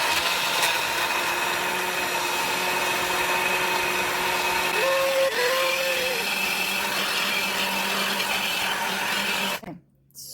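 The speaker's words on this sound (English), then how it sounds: "I'm just gonna put the stick blender in and blend it up" A stick blender whirs steadily through a pot of homemade chicken broth for nearly ten seconds, a close, continuous motor drone with a slight pitch wobble midway, before switching off.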